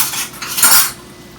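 Metal tongs clink against a small pot while small cronuts are turned in hot oil, a short cluster of close, bright utensil clatter rising to a peak and fading.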